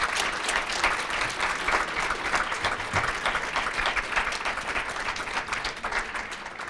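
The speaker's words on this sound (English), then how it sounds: "Let's give all the candidates a huge round of applause." A crowd at a county board of education candidate forum gives a sustained round of applause, dense, even clapping that stays full and steady throughout with no talk over it.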